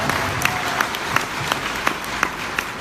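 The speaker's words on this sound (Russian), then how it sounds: "Давайте поаплодируем." Audience applause at a self-improvement talk, a steady wash of many hands with a few sharper individual claps standing out at regular intervals, loud and close.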